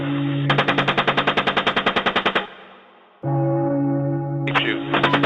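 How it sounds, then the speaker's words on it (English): Bursts of rapid machine gun fire in combat, a fast even rattle of shots that stops, then a steady roar and a second short burst. "Keep shooting."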